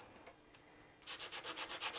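Sandpaper rubbed lightly up and down over painted wood, starting after a quiet second and becoming a quick, steady run of about seven close, scratchy strokes.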